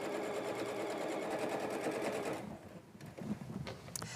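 A sewing machine runs steadily for over two seconds as it stitches diagonal quilt rows together for a wall hanging, then stops, leaving quieter handling sounds.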